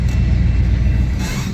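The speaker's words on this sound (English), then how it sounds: "this train thinks that it's its right just to cruise on through town" A train rolls through a small town, a loud, steady low rumble filling the whole stretch with no talk over it.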